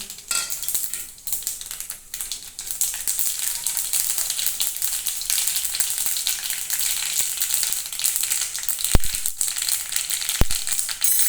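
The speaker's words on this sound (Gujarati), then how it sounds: "ગેસ ઉપર તેલ પૂરતા પૂવા હવે રાઈ જીરું નાખીશું" Mustard seeds and cumin sputtering in hot oil on a gas stove, a continuous close crackling hiss with a couple of sharper pops near the end and faint utensil clatter.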